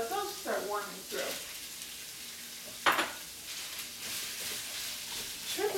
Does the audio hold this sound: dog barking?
no